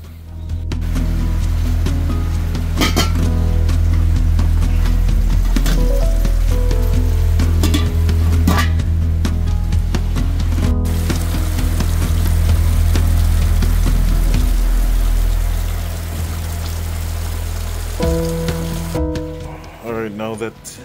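Beef for chop suey and chow mein sizzles steadily in a hot pan, a loud, continuous frying hiss that holds for most of the stretch and eases near the end, with voices and kitchen clatter at times.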